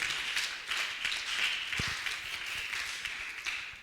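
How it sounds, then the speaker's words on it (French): Audience applause at a youth entrepreneurship convention, a steady wash of clapping that fills the whole stretch evenly, with no voices standing out. "On applaudit encore."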